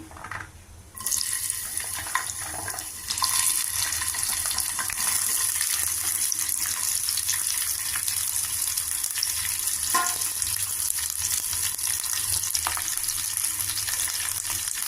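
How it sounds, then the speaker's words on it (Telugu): Cut ivy gourd pieces hit leftover oil in a pan, bursting into a loud, hissing fry after a second that stays steady and bright throughout, with an occasional utensil knock. "ఈ మిగిలిన ఆయిల్లోను ఇప్పుడు కట్ చేసుకున్న దొండకాయ ముక్కలు వేసుకోవాలి"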